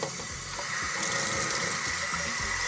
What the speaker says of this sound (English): I'm just going to dump it out. And then we're going to start rinsing.